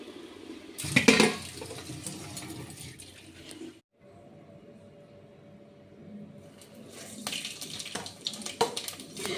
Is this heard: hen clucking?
no